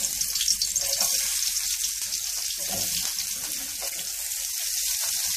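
Onions sautéing in a pan for chicken shawarma give a close, continuous bright sizzle with light crackles, steady and fairly loud with no talking.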